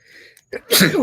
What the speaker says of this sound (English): going to sneeze.